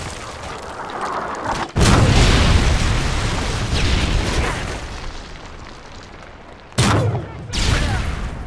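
A Predator missile strike in a first-person shooter video game sets off a loud, booming explosion that rolls on as a sustained rumble, followed by a second sharp blast and more heavy impact noise near the end.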